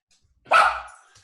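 A dog lets out one sharp, loud bark close by indoors, which trails off quickly into silence.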